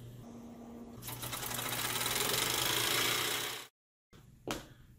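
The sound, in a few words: model steam engine running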